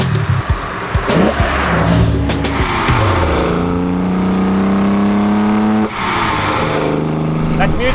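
A 1972 Holden XU1 Torana race car with Weber carburettors revs hard and accelerates through gear changes, its engine loud and close, while voices speak over it.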